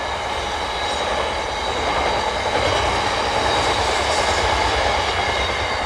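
A freight train rolls past close by, a steady, loud rumble and rattle of wagons on the rails that holds evenly for the whole stretch, with no talking.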